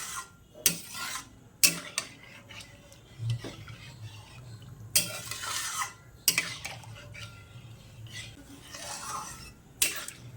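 Semolina being stirred with milk in a pan over low heat, with scraping and clinking of a utensil against the pan in irregular strokes and a few sharper knocks, close by with no voices.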